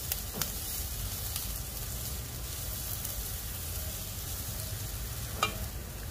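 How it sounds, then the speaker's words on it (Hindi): Finely chopped vegetables sautéing in a pan for a hot and sour vegetable soup, giving a steady, soft sizzle that runs unbroken throughout, with a couple of brief stirring clinks and no talking. "इसे भी भून लेंगे 15 सेकेंड तक"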